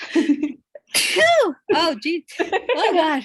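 One person sneezes sharply at close range, surrounded by a few short, breathy exclamations from the same voice.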